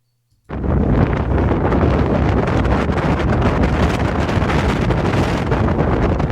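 Strong wind roars into the microphone after a brief quiet start, a loud, continuous rumbling buffeting that never lets up.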